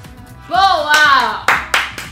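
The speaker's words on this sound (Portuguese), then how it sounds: "Palminhas, palminhas, palminhas. Clap, clap, clap." A few hand claps, two or three sharp loud slaps near the end, following a stretch of talking.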